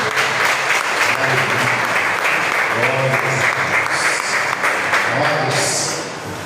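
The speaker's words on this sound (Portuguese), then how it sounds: "aplaude Deus" A church congregation applauds God at a Wednesday evening gathering, sustained loud clapping with voices calling out through it, tapering off near the end.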